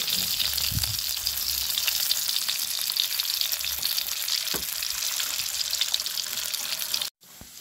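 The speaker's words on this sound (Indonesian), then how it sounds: "ini goreng dimasukkan sayur buncisnya" Green beans frying in a pan, giving a dense, steady high sizzle with occasional pops and crackles close up, continuing for about seven seconds before cutting off abruptly.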